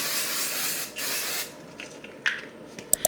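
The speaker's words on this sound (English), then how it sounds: "I'm gonna go in one more time with the setting spray." Several short hissing bursts of makeup setting spray, MAC Fix Plus, misted close by, the first two long and loud, followed by quieter clicks and light handling taps.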